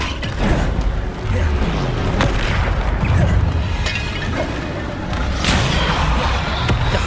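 Spell-casting in Hogwarts Legacy, the Depulso spell among them: dense, continuous booming impacts and crashing magical blasts, with sharp transients layered over a heavy low rumble.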